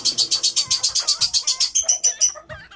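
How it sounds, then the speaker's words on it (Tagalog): Rooster calling near a hen that is about to lay, giving a rapid run of about fifteen loud, evenly spaced clucks that break into a few higher, drawn-out notes, close to the microphone with no talking. "nag-iingay na rin yung cock dahil sa"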